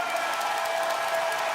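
Basketball arena crowd at an NBL grand final between the Tasmania JackJumpers and Sydney Kings, cheering and applauding in a steady, dense roar that holds loud and unbroken throughout.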